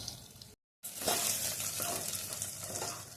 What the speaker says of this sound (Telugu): పెసరపప్పు ఎర్రగా వేయించుకోవాలి.